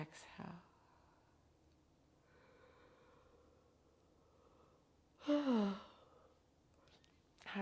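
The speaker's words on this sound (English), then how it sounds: "Exhale." During a yoga breathing practice, a soft breath and a louder, drawn-out exhale sound close to the microphone, set apart by quiet stretches in a still room.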